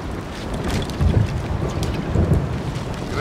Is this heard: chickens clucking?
no